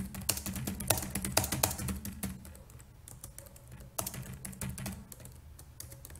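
Rapid typing on a computer keyboard, with dense bursts of key clicks that briefly thin out midway before resuming at a steady clip.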